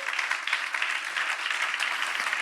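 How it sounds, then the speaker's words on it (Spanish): Audience applause during a church talk on Saint Philip, a steady broadband clatter of many hands clapping together for a couple of seconds, fairly full with no pause. "Un aplauso a Felipe,"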